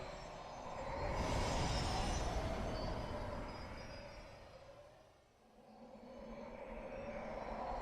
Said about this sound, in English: Space train has come.